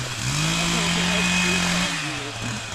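A steady, droning motor whine holds for nearly three seconds, then drops in pitch, like a chainsaw idling and revving under continuous noise.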